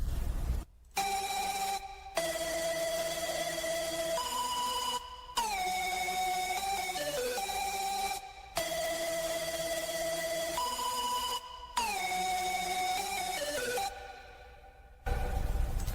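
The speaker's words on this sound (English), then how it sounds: "we have a sound from Nexus, and this is a sound from Preset Dubstep" Noisy Square, a Nexus synth preset from a dubstep bank: bright, buzzy square-wave chords with a hiss of noise, played in repeating phrases with short gaps and pitch glides, loud and unaccompanied.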